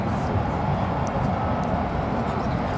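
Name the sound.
aircraft landing at Dallas DFW airport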